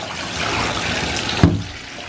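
Water pours steadily from a container to rinse a monkey sitting in a bath, a continuous splashing rush that ends with a small knock, then quieter running water.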